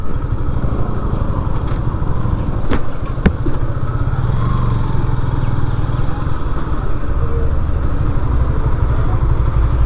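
A Yamaha FZ motorcycle is ridden near the Payra Bridge toll booth, its engine a loud, steady, close drone with wind rumble and a couple of sharp clicks, unbroken throughout.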